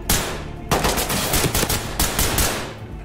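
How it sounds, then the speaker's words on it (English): Gunfire in the tactical shooter video game Ready or Not, loud rapid bursts of close automatic shots in two or three volleys. "Someone else shot."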